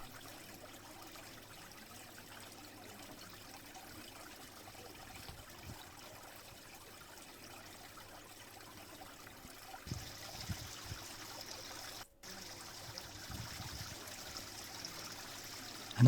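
Water trickles and flows softly in a steady, quiet stream, with slightly more splashing texture toward the end and a brief dropout.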